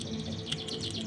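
Birds chirp in the late afternoon, a quick series of high, bright calls repeating over a low background hum, faint and moderately distant.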